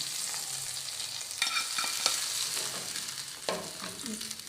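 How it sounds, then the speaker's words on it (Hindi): A hot baghar tempering hits khow suey curry with a continuous close sizzle, broken by a few sharp spoon clinks and stirring scrapes, with no voices. "और अब हम इसमें ये बघार ऐड कर देंगे"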